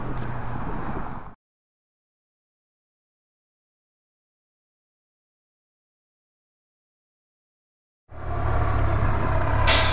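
A city bus in Edmonton pulls up to a stop, its loud, close engine rumble and road noise heard in two bursts at the start and end, with total silence between.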